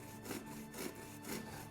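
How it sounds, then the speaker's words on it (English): A hand saw works across the corners of a wooden mummy portrait in a steady back-and-forth rhythm. About four rasping strokes sound faint but close, with no talking. "I'm sawing the edges or corners off of this mummy portrait in order that it will fit into the mummy wrappings."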